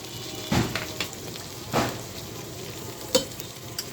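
Whole spices such as cumin, bay leaf, cardamom, cinnamon and cloves frying in oil in a pan for mung dal khichuri, a low sizzle broken by a few sharp stirring scrapes and clinks, close by.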